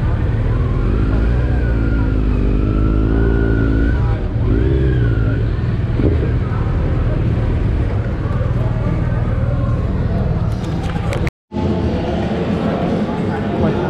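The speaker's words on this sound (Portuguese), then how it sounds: "Encostar as motos aí." Motorcycles idle and rumble with a steady low engine drone at a roadside stop in Picos, Piauí, Brazil, while people talk loudly over the running engines nearby.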